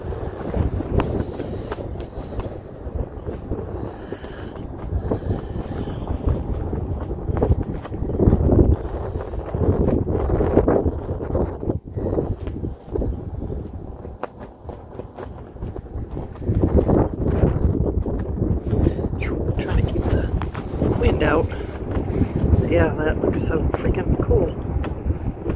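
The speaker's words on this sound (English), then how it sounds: "Right in the wind." Strong wind buffeting a microphone during an outdoor run, a loud, constant low roar with gusty surges and rustling that never lets up.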